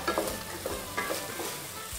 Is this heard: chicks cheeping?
no